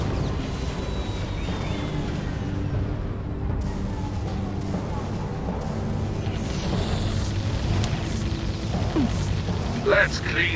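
Cannon fire in the tower-defense game Defense Grid: The Awakening, a dense steady rumble of repeated booms and mechanical clatter layered over game music, with occasional sharper bursts near the end.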